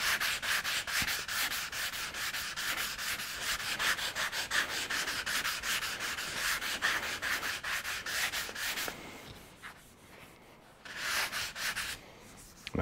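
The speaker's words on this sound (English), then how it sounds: "So I'm gonna sand probably this whole thing with the 600 grit." Hand sanding of a cracked Firebird car bumper with 600 grit sandpaper, rapid rhythmic rasping strokes close up, pausing briefly before a final short burst of rubbing.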